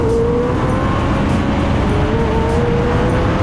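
A McLaren 675LT and a Lotus Exige V6 Club Racer in a drag race, a loud continuous engine roar with a steady sustained tone, no gear changes or passing swell; no talk.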